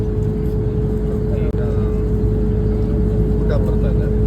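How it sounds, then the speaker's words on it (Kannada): Inside the cabin of a Saudia airliner on an international flight, a loud, steady engine drone with a constant hum fills the air, and voices talk over it. "ಬಟ್ ಇಲ್ಲಿ ಇಂಜಿನ್ ಸೌಂಡ್ ಇರೋದ್ರಿಂದ ತುಂಬ ಕೇಳಿಸಲ್ಲ"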